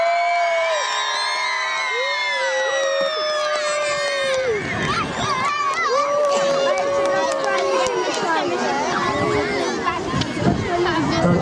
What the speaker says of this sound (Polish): publiczność brawa i krzyki jak na koncercie!